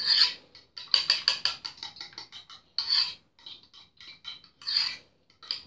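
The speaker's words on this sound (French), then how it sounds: "on mélange le tout" A breakfast mixture being stirred in a bowl, a quick morning recipe that is not an omelette, giving a series of close clinking and scraping taps of utensil against the bowl in irregular bursts, with no talk.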